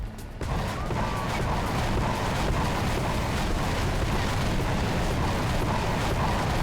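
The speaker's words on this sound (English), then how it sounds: "missiles launching straight up" Missiles launch straight up in War Thunder, a dense, steady roaring rush that starts with a sharp onset and holds loud and unbroken throughout, like rocket exhaust close by.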